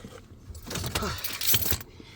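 Keys jangle and click as a 2013 Mustang is switched off, a close burst of metallic rattling with a brief turn of the ignition, fading to quiet.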